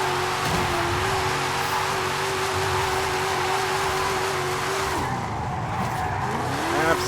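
A Ford Mustang GT with an AWD drift tune slides through corners in Forza Horizon 5. The engine roars at steady revs under continuous loud tire squeal, then the pitch drops briefly and climbs again near the end.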